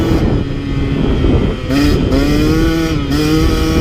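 A KTM 150 XC W two-stroke dirt bike engine screams at high RPM close by, a loud continuous buzzing rev with brief dips as the throttle shifts, then climbing again.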